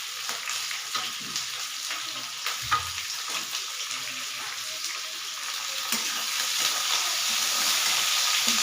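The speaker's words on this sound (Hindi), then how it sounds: "इसको भूजेंगे दोनों तक प्याज को।" Onions fry in a pan with a steady, soft sizzle and hiss that grows slightly louder toward the end, with occasional stirring clinks and scrapes.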